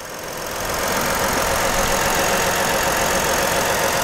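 A 2018 Ford Explorer Police Interceptor's 3.7-liter V6 idles steadily under an open hood, a close, even, continuous engine drone after a brief rise at the start.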